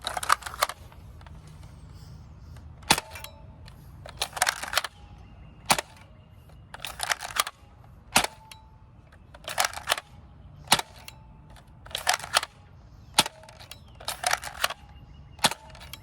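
A NERF Strong Arm blaster firing AccuStrike darts: a dozen or so sharp, loud snaps at a regular pace, each followed by a short rattle of priming and cylinder clicks, close by with no talking.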